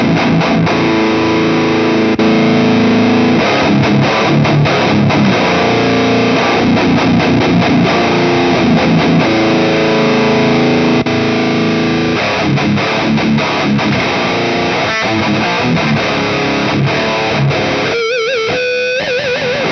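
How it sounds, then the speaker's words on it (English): Electric guitar played through an Aris Effects Savage drive pedal into a Fortin amplifier gives a loud, saturated distorted tone, with sustained chords and riffing throughout and a brief choppy break near the end. "Alright, so this is the Aris Effects Savage drive."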